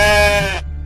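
A goat gives a single loud, close bleat with a quavering tone that stops abruptly after about half a second.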